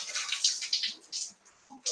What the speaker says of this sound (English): now I can just pour out the tea